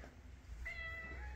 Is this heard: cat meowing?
yes